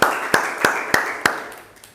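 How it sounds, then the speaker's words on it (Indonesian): Students in a classroom give a few sharp, evenly spaced claps, about five in quick succession, close and crisp, before fading into quiet. "Boleh kasih tepuk tangan ya"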